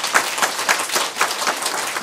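Applause breaks out during a Buddhist Avatamsaka Sutra lecture hall session, a mid-level patter of many hands clapping steadily for a couple of seconds with no talking over it.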